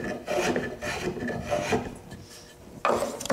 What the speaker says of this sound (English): You could rasp this. I'm just trying to smooth everything out a little bit.